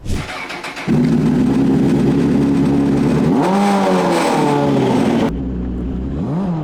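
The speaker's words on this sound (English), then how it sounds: "that's a homemade formula car" A homemade Formula 1-style car with a slipping clutch fires up and settles into a loud, close engine drone, then revs sharply upward twice before the note drops back to a lower idle.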